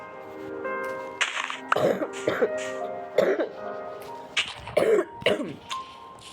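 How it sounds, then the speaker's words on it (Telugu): A person coughs and clears the throat repeatedly in a quiet room, several sharp, close coughs spaced over a few seconds, with brief vocal sounds between them. "సారీ గైస్, అయితే అంటే నాకు కొంచెం కాఫ్ ఉంది"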